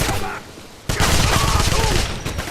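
Rapid gunfire from the 2009 Wolfenstein video game, a dense burst of shots after a quieter lead-in with a faint voice, continuing loud and sustained to the end.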